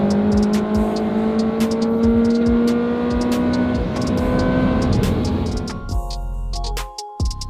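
A Ferrari V8 engine drones loud and steady from inside the car while driving, its pitch shifting slightly, then it eases off and rumbles lower near the end.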